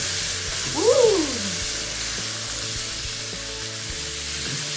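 Potatoes sizzle and crackle steadily in a hot pan as they are stirred, with a brief excited whoop from a voice over the frying noise.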